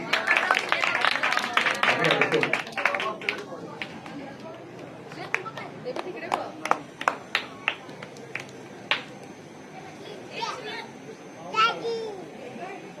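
Children clap in scattered, uneven bursts during a classroom science-magic demonstration, the claps sharp and close, mixed with children's chatter and movement that is busier at the start.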